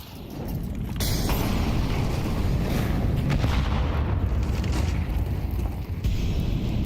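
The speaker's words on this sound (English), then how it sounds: "Flubbed Incendiary coming over that wall" An incendiary grenade is lobbed over a wall in a Counter-Strike match, with a sustained roaring burst and crackling fire filling the scene at steady loudness throughout.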